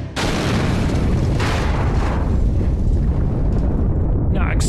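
A massive, rumbling blast erupts and keeps roaring at full loudness, a dense booming wall of noise that barely fades.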